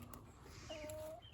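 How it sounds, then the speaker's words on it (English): Meat chickens in a homestead pen make soft, steady clucking at close range, with one drawn-out tonal call rising above the flock's continuous low murmur. "And then we got our meat chickens over here."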